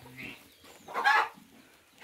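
A chicken on a small farm gives a brief, sharp squawking cluck partway through, with fainter low clucks before and after against a quiet background.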